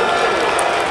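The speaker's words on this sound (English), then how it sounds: "And some fans cheering because a fan out there juggled it at first and then made the catch leaning over." Baseball fans in a minor-league ballpark cheer and applaud after a home run into the upper level, a dense, loud wash of crowd noise held steady for under a second.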